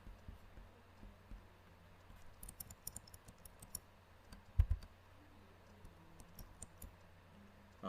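Scattered keyboard and mouse clicks while code is cut and pasted in a CSS tutorial, sparse soft taps with a few sharper knocks over a quiet room hum.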